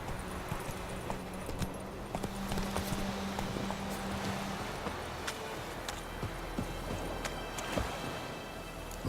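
Roach the horse's hooves clip-clop at a walking pace in The Witcher 3, a soft, fairly quiet rhythm of hoof taps over a low ambient game background.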